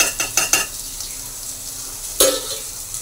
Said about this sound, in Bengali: দিয়ে ভালো করে নাড়তে থাকবো।